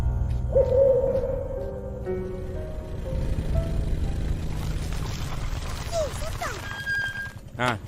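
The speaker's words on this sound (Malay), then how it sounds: "Burung hantu." A low owl hoot sounds near the start in an animated cartoon, followed by rustling, chirps and scattered background noises; voices are faint or absent.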